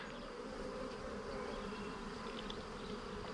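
A dense, steady insect drone of many honeybees buzzing together close by above open brood in a hive, continuous and unbroken with no voices.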